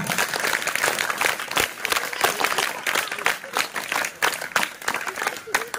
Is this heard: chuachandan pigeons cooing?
no